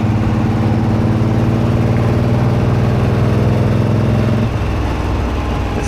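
A 1937 Harley-Davidson Knucklehead motorcycle engine runs loud and close with a steady, throbbing low rumble that drops in pitch and eases near the end.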